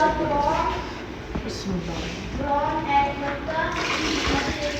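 Rice soaking in a vessel is washed under a running kitchen tap, a steady gush and splash of water heard beneath a woman's continuous speech.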